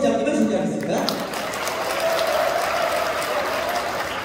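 Applause from an audience at a Korean volunteer training event as staff members are introduced, a dense steady wash of clapping sustained throughout, with a voice briefly over it at the start.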